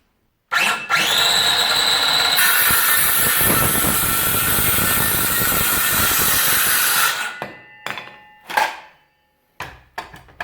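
Parkside PHKSA 20-LI A2 cordless circular saw cutting a piece of wood on a workbench: the motor spins up loudly, bites into the board for several seconds, then stops, followed by a few short knocks and clatters.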